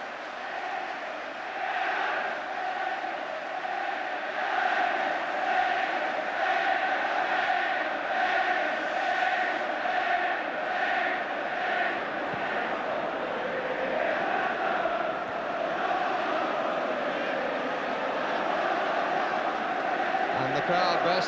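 A large football crowd at an England v Argentina friendly at Wembley in 1980 sings in full chorus, a dense, sustained roar of voices with a rising and falling chant rhythm, steady and distant, with a commentator speaking over it.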